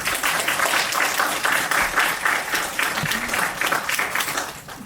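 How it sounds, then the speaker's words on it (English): An audience at a literary reading event breaks into steady applause, a dense spray of clapping that stays fairly even for a few seconds, moderately loud from the room with no clear talk over it. "let's give a round of applause for Reese"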